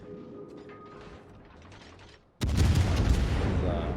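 Naval gun salvos from a Des Moines cruiser in a naval video game: a quiet rumbling background gives way to a sudden, loud, booming blast that rolls on with heavy low rumble.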